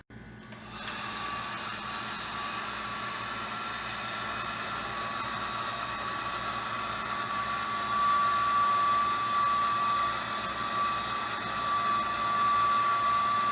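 Steady loud roar of a heat gun blowing hot air onto shrink tubing over a bicycle brake lever, starting abruptly and running continuously with a faint high whine, no talking.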